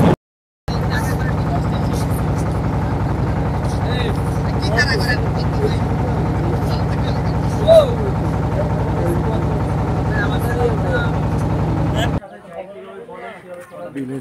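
A boat motor drones steadily as two boats on a lake trip travel side by side, a constant low engine hum with speech over it, which cuts out near the end.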